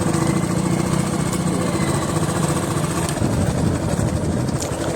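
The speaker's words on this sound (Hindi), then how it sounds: "तो ट्रैक्टर्स वगैरह सब आ रहे हैं काम में निकलने के लिए" Tractors rumbling past on a rough village road, a steady loud diesel engine drone with low throbbing that stays close throughout, no talking.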